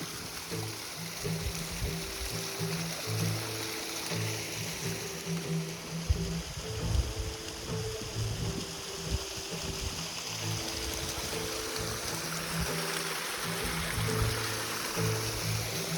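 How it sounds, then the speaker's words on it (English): A famous reverse waterfall and waterfall with a flowing stream, heard as a steady, broad rush and trickle of water that continues for the whole stretch, with low rumbling underneath and no voices. "This is the famous reverse waterfall and waterfall."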